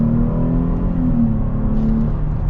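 A Chevy Blazer SUV accelerates through rush-hour traffic, its engine note rising steadily in a smooth, continuous drone with a close cabin-level hum and no talking.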